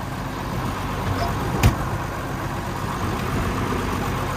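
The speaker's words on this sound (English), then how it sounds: "Tractor starts right up" A 1977 John Deere 4630 tractor engine running steadily at a moderate distance, a low continuous rumble with one brief sharp click partway through.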